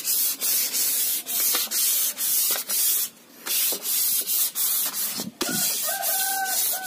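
Rhythmic back-and-forth scratching of 700-grit sandpaper on a varnished teak door, close and steady in repeated strokes with a short pause, while a rooster crows faintly in the distance.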